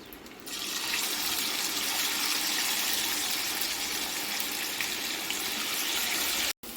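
Ivy gourd pieces and peanuts hit a hot oiled pan, bursting into a dense, steady sizzle that holds strong throughout before a brief cutout near the end.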